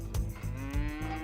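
Young heifers on a farm moo in low, drawn-out bellows, several overlapping calls close by with a rhythmic pulse of movement beneath them.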